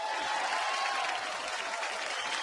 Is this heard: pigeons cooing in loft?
no